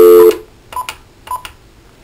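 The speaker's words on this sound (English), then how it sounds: "Without lifting the handset, press Speaker and dial" An NEC office desk phone in speaker mode sends out its keypad dialing tones: one longer tone, then two pairs of short, crisp beeps, close and clear with no one talking.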